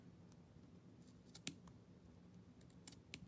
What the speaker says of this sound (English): with my butterfly scissors